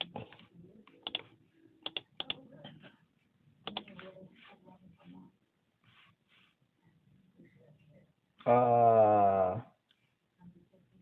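Computer keyboard typing in short, sparse bursts of clicks spread through the first half, with quiet stretches, faint low speech and a loud tonal burst near the end.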